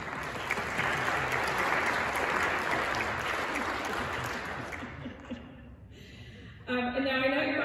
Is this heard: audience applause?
yes